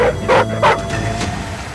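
A search and rescue dog at an urban disaster site gives two sharp, close barks in quick succession, then a fainter yelp, with steady background noise and no talk.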